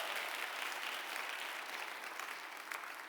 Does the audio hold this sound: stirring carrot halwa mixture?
no